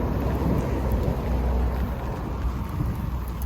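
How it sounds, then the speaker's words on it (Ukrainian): Thunder rumbles through steady heavy rain outdoors during a stormy barbecue, a dense continuous low roar with rain patter and wind, loud and enveloping, with no voices. "Грім гримить, молнія сверка."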